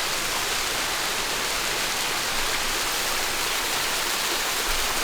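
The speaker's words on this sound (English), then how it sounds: "The name of the waterfall means green moss." Steady, dense roar of a waterfall in Sheki, Azerbaijan, its name meaning green moss, rushing continuously at close range with no voices over it.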